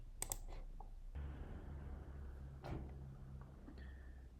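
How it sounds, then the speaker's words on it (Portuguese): A single mouse click on a computer, short and close, followed by a faint steady hum with a couple of other soft clicks. "Vou clicar aqui em Start."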